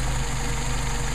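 A worn, clapped-out Mercedes 190SL engine idles on Solex carburetors, a close, steady low rumble with a faint knocking pulse and a high whine running throughout.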